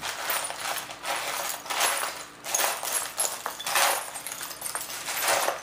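A hand rummages through a container of metal bolts in a workshop, giving continuous close jangling, clinking and rattling in uneven bursts with brief pauses.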